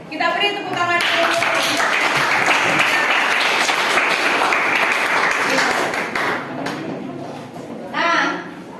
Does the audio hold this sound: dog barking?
no